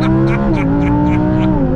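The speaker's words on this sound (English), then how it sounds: "Launch control when it's in performance mode, brake pedal down, gas pedal down." An Audi R8 V10 in performance-mode launch control, engine holding a loud steady high-revving drone with pulsing harmonics that shift slightly, close and continuous for under two seconds with no talk.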